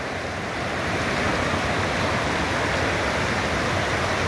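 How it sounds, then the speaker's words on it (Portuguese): A waterfall in Mato Grosso, Brazil, a broad continuous roar of falling water that stays loud and even throughout with no voices over it. "Olha a cachoeira. Olha a cachoeira aí, ó."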